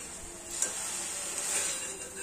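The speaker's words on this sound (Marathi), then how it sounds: "छान पैकी आता गाजर भाजून घेऊया।" Grated carrots roast in ghee in a pan, giving a faint, steady sizzle with soft scraping strokes of stirring.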